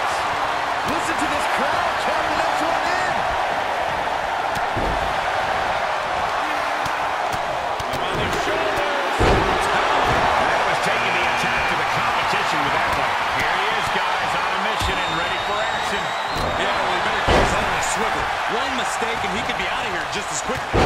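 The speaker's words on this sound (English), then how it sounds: "Listen to this crowd." Steady crowd roar from an arena audience in a wrestling video game, a dense constant wash running the whole length with sharp slam and impact hits scattered through it, while people talk over the top.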